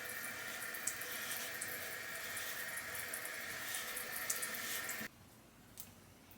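Water runs steadily from a tap or sprayer while hair is being styled, a continuous close hiss for about five seconds that then cuts off abruptly, leaving quiet room tone.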